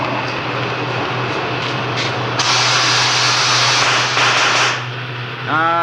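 A gas welding torch is lit as a radio drama effect, giving a sustained loud hiss of burning gas with rough flaring surges, then a brief pop before it dies down and restarts.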